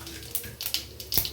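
Mustard seeds dropped into hot cooking oil while making nool kol poriyal crackle in a few sharp, scattered pops and sizzles over a low kitchen hum, with no talking.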